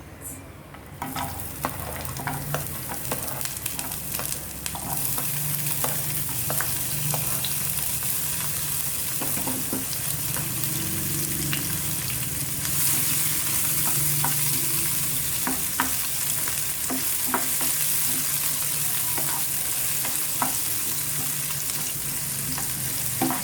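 Onions and cumin seeds saute in a pan with a steady, close sizzle, broken by frequent scraping and clinking stirs across the whole stretch; no voices.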